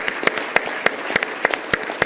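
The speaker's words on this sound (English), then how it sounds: "I'll give you a round of applause." Audience applause for a member of parliament at a Calgary business community event on Budget 2025, sharp claps in a steady run close by, loud and without talk.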